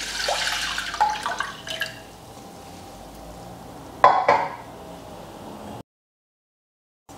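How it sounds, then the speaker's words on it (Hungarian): Half a liter of milk poured into a saucepan, a soft close splashing pour in the first seconds, then a quiet pause, a brief louder clatter and splash, and silence. "A fél liter tejet öntsük bele a lábasba."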